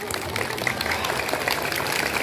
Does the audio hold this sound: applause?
yes